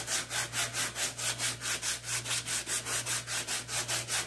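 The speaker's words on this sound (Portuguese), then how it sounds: "sempre a lixa bem levinha, tá? Nunca lixe com força, pra não danificar." Sandpaper rubbed lightly over a piece painted with PVA paint using the candle-resist technique, making steady rhythmic back-and-forth strokes, about four per second, close and clear with no talking.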